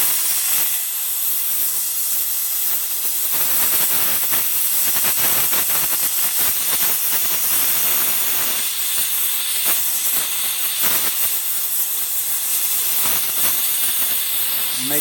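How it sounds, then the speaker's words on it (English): A torch for melting 22 karat gold roars with a loud, continuous hiss, steady and close throughout with slight flutters in intensity, and no speech over it. "my torch has gotten very noisy lately"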